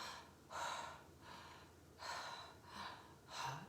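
Slow, deep human breaths come in a calm rhythm, four soft airy inhales and exhales spaced about a second apart, close and quiet with no talking.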